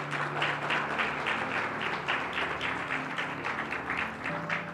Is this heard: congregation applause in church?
yes